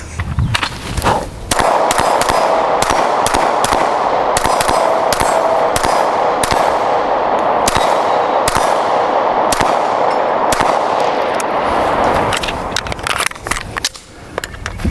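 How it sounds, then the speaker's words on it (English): A Daniel Defense H9 pistol fires a rapid string of loud, sharp shots, evenly spaced for about twelve seconds, each crack ringing metallically with no talking. "I'll load this back up and shoot it."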